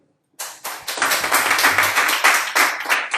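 A church congregation claps rhythmically and energetically to acclaim the Lord during a French-language sermon, with dense, steady hand claps starting abruptly and continuing without talk.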